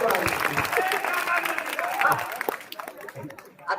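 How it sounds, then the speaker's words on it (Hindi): Audience at a Hindi comic poetry gathering applauds in a dense burst mixed with crowd chatter, the clapping gradually tapering off toward the end. "थोड़ा तालियों का ढेर बढ़ाइए।"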